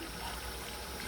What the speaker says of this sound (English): we're going to add in some boiling water